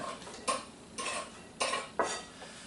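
Red onion going into a pot with cherry tomatoes for an asparagus salad, followed by four distinct scraping stirs of a utensil against the pot, close and moderately loud with no talking.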